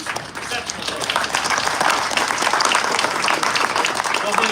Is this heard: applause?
yes